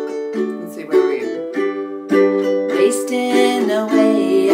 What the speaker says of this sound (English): You could also do a 2-beat strum.